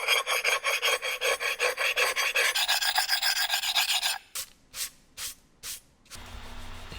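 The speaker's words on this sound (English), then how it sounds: "you can just scrape it away with this glaze eraser" Glaze eraser scraping a glaze run off a kiln shelf, a fast rhythmic rasping of repeated strokes, then a few slower separate scrapes, close and clear with no talk.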